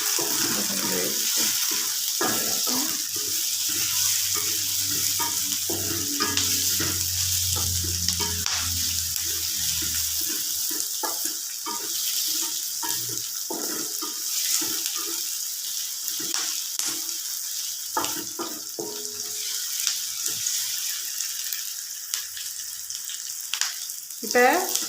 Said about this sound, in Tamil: இப்போ வெங்காயம் பொன்னிறமாக வதங்கிடுச்சு